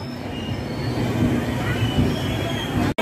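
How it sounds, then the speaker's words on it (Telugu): Bokaro Express from Dhanbad pulling into platform 1 of an Indian railway station, a steady close rumble of wheels and coaches with faint squeal, continuous for about three seconds before a brief cutoff. "1 నెంబర్ ప్లాట్ఫామ్కి ధనబాద్ నుంచి LHP వెళ్ళే బొకారో ఎక్స్ప్రెస్ వచ్చింది"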